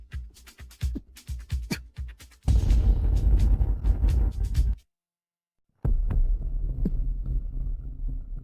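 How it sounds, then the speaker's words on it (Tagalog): Fast heartbeat sound effect in a hospital drama scene, a loud run of rapid low thumps that gives way to a dense throbbing pulse, breaks off into a second of silence, then resumes, with no talking. "bumibilis ang tibok ng puso"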